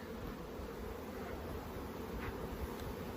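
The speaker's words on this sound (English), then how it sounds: "So lots of bees." Honeybees hum around an opened hive box during a honey harvest, a faint, steady buzzing drone that runs unbroken throughout.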